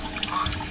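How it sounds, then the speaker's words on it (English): Fresh water from onboard tanks pumped through the plumbing of a converted school bus, a brief close gush of running water with a steady hiss. "Pumping water into the system"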